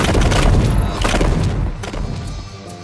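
Booming, thudding shots and blasts from a creature firing at players in the video game Journey to the Savage Planet, a dense, loud barrage of impacts that slowly eases off.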